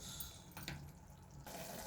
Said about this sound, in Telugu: కొన్ని వాటర్ వేస్తానండి.